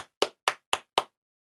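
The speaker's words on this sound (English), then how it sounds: "Oh, Bob starts clapping." Five sharp, evenly spaced hand claps, close and crisp, each about a quarter second apart, followed by silence.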